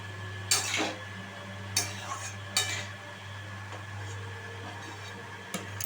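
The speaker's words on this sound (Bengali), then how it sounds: "মিনিট 2-3 ধরে আমি কষিয়ে নিচ্ছি" Spicy prawn masala sautéed in a pan, with a soft steady sizzle under several sharp scrapes and clinks of a spatula against the metal pan, close and moderately loud, no talking.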